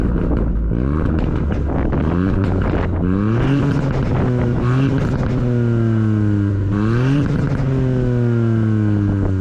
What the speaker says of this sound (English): listen to that, what I just showed you with the exhaust